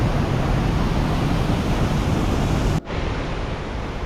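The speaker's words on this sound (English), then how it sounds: "And there's another waterfall flowing down." A steady, loud rush of a waterfall in Glacier National Park fills the air as a broad roaring hiss, briefly cut off near the end before continuing slightly softer.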